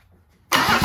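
A diesel-swapped 2JZ engine in a Datsun fires up abruptly after near silence, then settles into a loud, dense, steady roar close by.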